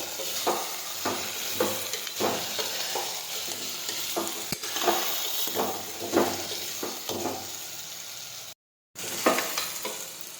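A mixed vegetable curry of aubergine, potato, tomato, drumstick and cluster beans has its spices stirred in a frying pan, with a steady sizzle and repeated scraping strokes of the spoon, briefly dropping out near the end.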